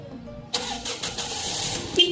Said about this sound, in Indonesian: di saat mesin lagi kita nyalakan